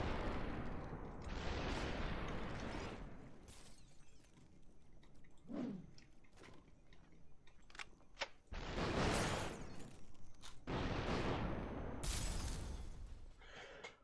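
Gunfire in the video game Superhot: Mind Control Delete, several loud broad bursts of shots and shattering crashes separated by quieter gaps, heard up close with no talking.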